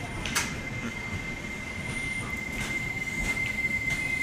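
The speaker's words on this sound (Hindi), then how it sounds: "मरुधर एक्सप्रेस यहाँ पे डिपार्चर लेते हुए" An LHB Marudhar Express train on the Varanasi–Jodhpur route departs, its wheels squealing with a steady high-pitched whine over a low rolling rumble and occasional clanks, close and continuous, with no talk.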